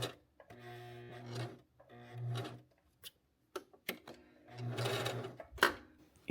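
A sewing machine stitches a seam in short whirring bursts, three or four runs of stitching separated by pauses, with clicks and handling noises between them.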